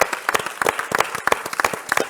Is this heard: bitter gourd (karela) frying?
no